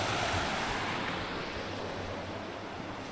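The River Derwent rushes steadily at a crossing point in the Upper Derwent Valley on a cold day, a dense, continuous wash of flowing water close by, with some wind buffeting the microphone.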